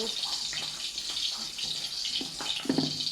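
A pot of water boils steadily on the stove with squash, string beans, okra and eggplant, giving a continuous bubbling hiss with a few soft clinks and a faint voice in the background.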